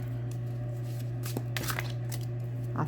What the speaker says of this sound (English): I thought I would shuffle them up a little bit